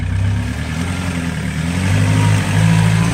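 A Land Rover engine runs steadily and loud up close off-road, with a rough low rumble that swells slightly near the end as if revving.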